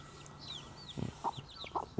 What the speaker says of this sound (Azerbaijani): Burada mənim toyuqlarım, cücələrim var